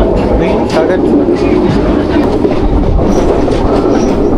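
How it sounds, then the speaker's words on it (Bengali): The Paharia Express rounds a curve, a loud, close rolling rumble with continuous clickety-clack of wheels on rails and a hint of wheel squeal throughout. "ট্রেন কার্ভ নিচ্ছে"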